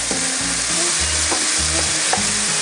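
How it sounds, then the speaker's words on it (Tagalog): Chopped onions and tomatoes sauté in hot oil in a pan, a steady loud sizzle with a few clinks and scrapes of stirring, no voices. "igigisa na natin yung sibuyas. Palalambutin lang natin to. Sama ko na rin yung kamatis."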